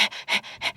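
Three rhythmic, breathy panting pulses from a person imitating rapid, continuous breathing, near and fairly loud with short gaps between breaths.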